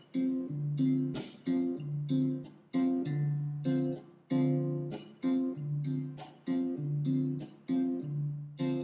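Guitar strummed in short, clipped chords with a steady rhythmic pattern, each chord cut off quickly to leave brief gaps, played up close and clearly with no talking.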